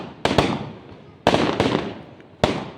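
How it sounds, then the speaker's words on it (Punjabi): Sharp firecracker bangs go off in clusters, each pop followed by a fading rumble, loud and close with no talking. "ਪਟਾਕੇ ਚੱਲਦੇ ਪਏ ਆ"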